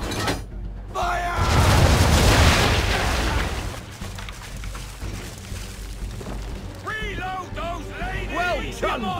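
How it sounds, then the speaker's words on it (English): Ship cannon broadside in the Assassin's Creed 3 video game, a heavy booming blast that rumbles and fades, followed by shouting crew voices over background noise. "when all guns are on target, call fire."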